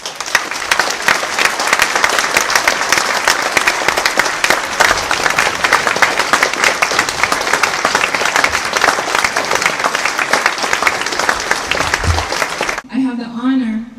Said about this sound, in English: And I'd like to give them a round of applause